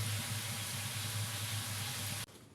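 Dhapra, a crispy flatbread, frying in a pan as a steady broadband sizzle with a low humming undertone, continuous and fairly loud before cutting off abruptly near the end.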